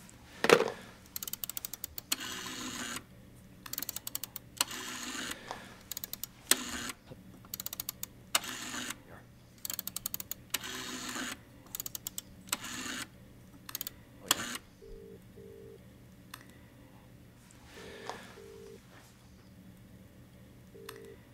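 A telephone is dialed before a call, a long series of quick mechanical clicks and ratcheting ticks in irregular bursts, followed by a few short tones near the end, fairly quiet against a low hum.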